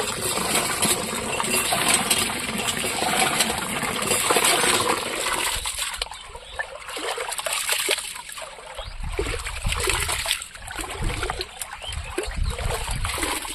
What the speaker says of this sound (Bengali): চালটা ধুয়ে দিচ্ছি